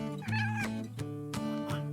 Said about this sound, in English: C for cat, purring with grace.